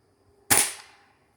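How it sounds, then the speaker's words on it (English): A single sharp crack from a Gamo Whisper Fusion Mach 1 .22 air rifle firing a hollow point pellet, a close, loud snap that fades quickly into silence. "Now we're going to shoot the hollow points."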